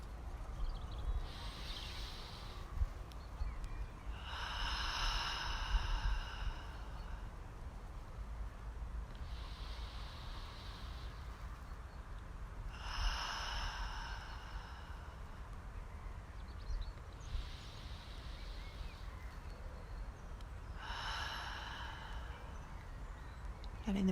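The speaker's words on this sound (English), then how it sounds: "taking 3 bigger than usual breaths" Slow, deep breaths during a quiet meditation, with several long airy inhales and exhales spaced a few seconds apart over a soft background hush.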